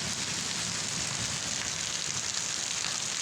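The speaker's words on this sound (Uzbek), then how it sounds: "O'ta darajada yog'yapti yomg'ir." Steady rain falls in a thick, misty downpour, a continuous dense hiss of drops striking surfaces close by, with no voices over it.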